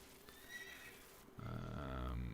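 A horse in the video game Quinfall whinnies with a rising, quavering call, followed by a louder, fuller neigh that holds briefly before fading.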